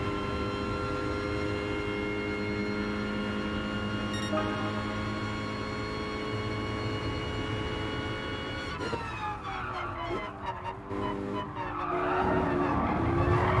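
A Mercedes A45 AMG race car in Gran Turismo Sport at a GT League race sounds a continuous loud engine drone with layered harmonic whine, turning rougher with skidding tire noise near the end.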